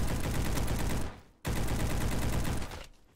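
Rapid gunfire in Roblox roars in two dense, loud automatic bursts, each about a second long, separated by a brief gap, with no talking over it.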